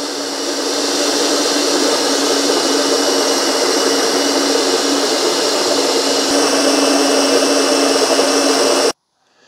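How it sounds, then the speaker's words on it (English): An OXO Brew conical burr coffee grinder with a built-in scale grinds coffee in a steady, even whir that runs for about nine seconds, then stops abruptly. "It's a very quiet grinder."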